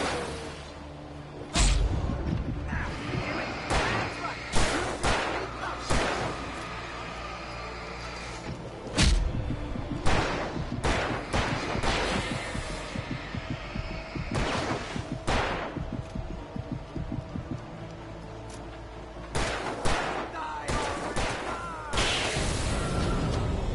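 Gunfire and heavy impacts from the video game Alan Wake Remastered, with repeated loud broadband bursts spread irregularly over a steady rumbling game soundscape.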